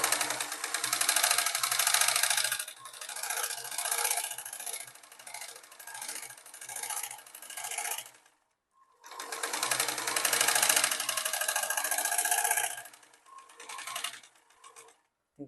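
A sewing machine runs a double line of stitching on a baby's elastic frock, two long close bursts of steady rapid whirring separated by a brief silence, trailing off into shorter stop-start runs.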